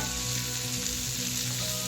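Tandoori chicken pieces fry in a pan at home with a loud, steady sizzle and crackle that runs close and unbroken throughout, with no voices.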